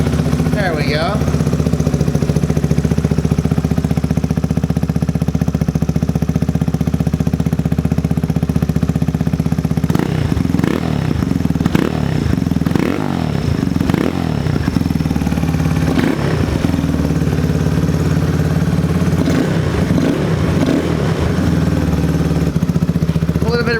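A fuel-injected Kawasaki KLX110 motorcycle engine runs after start-up, a steady close idle with a chattering single-cylinder pulse and several sharp revs and throttle blips partway through; a voice talks over it at times.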